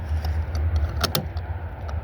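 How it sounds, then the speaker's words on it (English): A Chevy Equinox gas cap, 2010–2017 model, being screwed tight with a couple of small, crisp plastic clicks close up, over a steady low background hum, no talking. "That click is letting you know this is on tight now."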